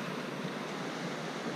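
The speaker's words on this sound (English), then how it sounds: "The waves is just amazing. It's really strong, the current is really strong" Strong ocean surf at high tide on a beach at Hinobaan gives a steady, broad wash of noise, faint and even, with no distinct individual wave crashes and no talk.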